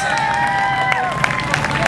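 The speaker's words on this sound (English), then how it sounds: "Let's give Gary a round of applause" An outdoor crowd applauds Gary Borg at the 2009 Todos Santos Halloween Parade, a steady wash of clapping and cheering that lasts throughout, with a few sharper claps standing out over a faint musical tone.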